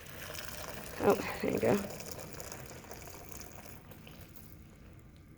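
Hot water, 500 ml, pours from a kettle in a steady watery rush that runs under a short burst of nearby speech and then fades.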